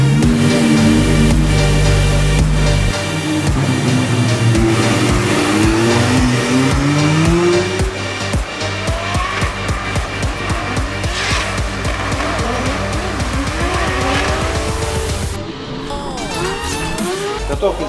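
Custom-built Lanker F drift car with in-house suspension sliding at the Russian drift championship RDS GP, a loud revving engine bouncing off the limiter and rising tire squeal, close and continuous, ending with a brief gear-change dip.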